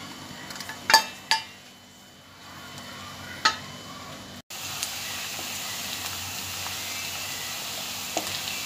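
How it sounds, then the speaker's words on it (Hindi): Chopped onions hit hot oil in a pan with a few sharp clatters, then a steady, close hiss of sizzling frying runs on unbroken with no talk. "ऑयल गरम होने के बाद में हम कटी हुई प्याज को ऑयल में डालते हैं।"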